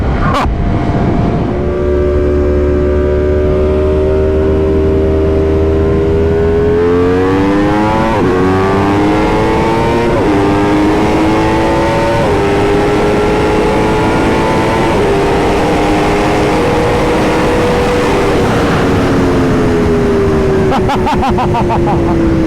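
An Aprilia RSV4 Factory and a BMW M 1000 RR race side by side, their high-revving engines loud and close, with pitch climbing and dipping through gear changes.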